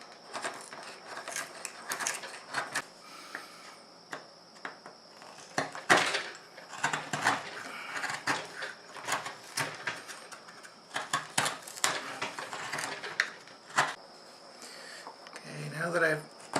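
A gouge cuts into a wooden spoon being hand-carved, making close, irregular scraping strokes and sharp clicks that come in uneven bursts, with a brief low rasp near the end.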